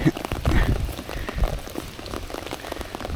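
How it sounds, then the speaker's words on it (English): Rain falls steadily and heavily at a carp and catfish fishing spot, a dense, constant hiss and patter on surfaces heard close throughout. "It's pissing with rain"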